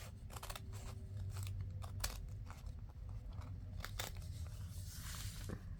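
Scissors snipping through paper for an envelope project, a series of close, quiet cuts with faint crunchy crackle against a steady low background hum.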